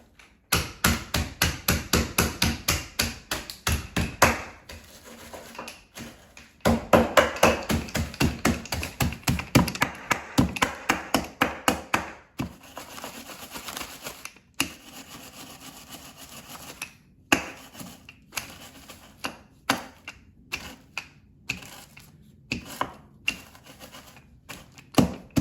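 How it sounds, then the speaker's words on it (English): A rolling pin crushes Oreo cookies inside a bag, giving rapid bursts of sharp taps and crunching knocks, then slower, scattered thuds with pauses, close and without talk. "add 4 Oreos to the bag and use a rolling pin to crush them into crumbs"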